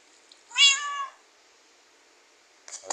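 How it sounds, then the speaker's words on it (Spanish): A cat in a Minecraft-style video game gives a single clear, close meow lasting about half a second, followed by quiet and a faint rustle at the end. "Ah, está el gato arriba y no puedo abrir."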